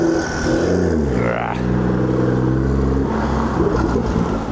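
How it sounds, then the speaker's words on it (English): A BMW car engine on the outer ring road of Regents Park rumbles loudly and close, with a low gurgling drone whose pitch sweeps and shifts as the car moves past. "We've got ourselves a right gurgling BMW here."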